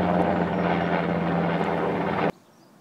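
Helicopter flying over a neighbourhood north of Garthdee by the old Deeside line, a loud continuous rotor drone that stops abruptly near the end, leaving quiet background.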